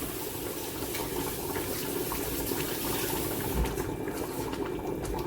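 Tap water runs steadily into a kitchen sink at a cleaning station, a continuous close rushing splash lasting the whole stretch with no talk.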